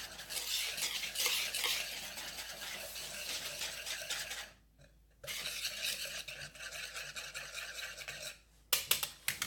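A spoon scrapes and swirls through sugar, cornstarch and salt in a bowl, making a close, gritty rubbing that stops briefly midway and resumes, then ends with a few sharper clinks.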